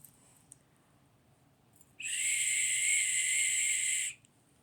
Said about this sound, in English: Definitely too loud to be a dog whistle